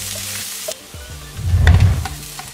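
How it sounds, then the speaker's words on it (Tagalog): Minced garlic and red onion hit hot oil in a pan, a loud close sizzle swelling after a couple of soft clatters and then settling into a steady fry. "Maggigisa tayo ng minced garlic. Then, red onion."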